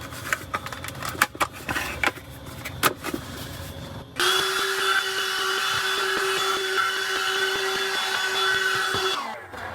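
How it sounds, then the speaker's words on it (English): A vacuum cleaner switches on partway through with a steady, loud motor whine that holds for several seconds before shutting off, following a stretch of clattering handling noises. "Thank you, by the way, for sending me this vacuum cleaner."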